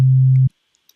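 A deep, pure synthesized 808 sine bass tone at C3 holds steady for about half a second, then cuts off into silence.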